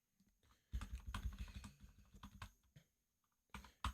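Quiet, close typing on a computer keyboard, with bursts of rapid clicking keystrokes broken by short pauses and a few separate harder taps near the end, and no talking.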